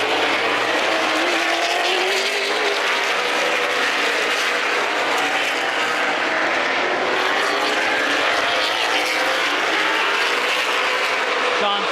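Race cars run bumper to bumper on a track in a continuous loud, dense engine roar, with an announcer's commentary running over the top.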